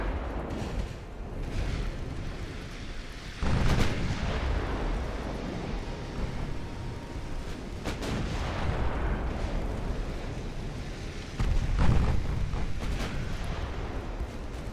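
Naval guns fire and shells hit a battleship in a naval strategy video game, with deep booming blasts and rumbling impacts over a continuous battle din, a few louder thuds standing out.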